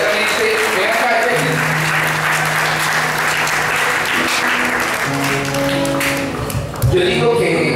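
Sustained applause fills a youth retreat gathering, many people clapping loudly and continuously, with voices and tonal sounds, likely music, rising beneath the clapping throughout.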